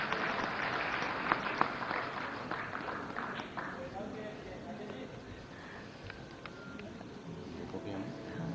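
An outdoor crowd applauds for C.P. Joshi at a ceremony honouring martyrs' families, a steady moderate clapping that gradually thins while a voice continues over it.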